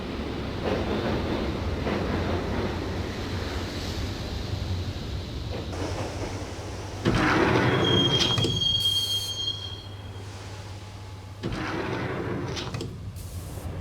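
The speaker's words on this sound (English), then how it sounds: "the train doors had already shut behind me, and I was in for the ride" A train ride in the video game Max Payne: steady rumbling of rolling carriages with a sharp, high wheel squeal cutting in partway through, the roar swelling louder as the cars rattle on.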